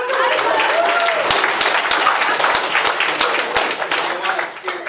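An audience at a voice acting workshop at AlmaCon 2014 claps in a dense round of applause lasting several seconds, with voices talking over it.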